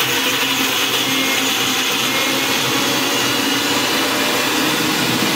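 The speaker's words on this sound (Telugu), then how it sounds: "సో అలా వేసి ఆంటీ మిక్సీ పట్టాలన్నారు, గట్టిగా పట్టాలి అని అన్నారు" A mixer grinder runs nonstop at full speed, grinding masala with a little water into a paste. The whir is loud and close, a steady high-pitched roar with no talking.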